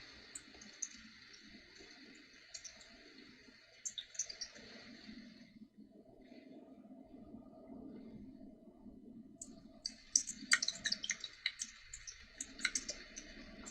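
Typing on a computer keyboard, bursts of quiet key clicks separated by a pause, with a low murmur of background sound and no clear speech.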